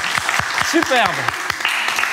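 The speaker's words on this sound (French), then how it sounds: "On applaudit le badin, le badinage." Audience applause at a fable performance at the Château de Voltaire in Ferney, heard as brief rhythmic clapping under a speaking voice.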